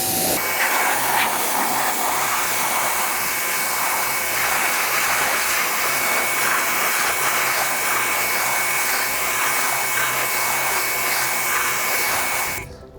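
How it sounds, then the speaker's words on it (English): A steady, loud rush of pressurized water spraying down a freshly cleaned car wheel and tire, with a broad even hiss running almost unbroken and cutting off at the end. "now we should be good to rinse everything down."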